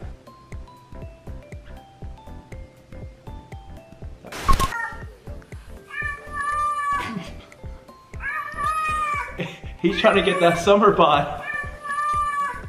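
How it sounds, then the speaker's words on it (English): An overweight cat meowing and caterwauling in several drawn-out, rising calls, loud and close, over a rhythmic background beat, with people talking over it. "she's making the cat work out because the cat's overweight"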